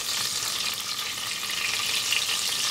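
Cumin and mustard seeds fry in butter for a dal with mushroom and spinach, giving a steady, dense, close sizzle that hisses evenly throughout with no pauses and no voices.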